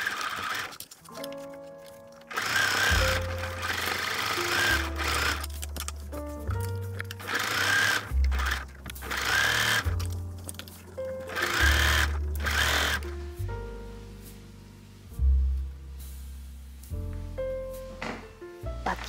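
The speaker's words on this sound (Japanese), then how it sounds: "端を縫おう。" A sewing machine stitches the folded edge of a cut neckline on a dress, running in repeated bursts of fast mechanical whirring with short stops and clicks between them, close and clear, with no talk.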